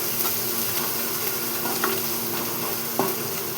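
Turmeric frying in a pan gives a steady, close sizzle, with a few soft scrapes from stirring over it and no talking.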